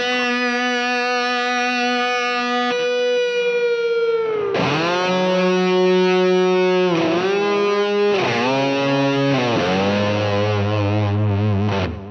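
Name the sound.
distorted electric guitar solo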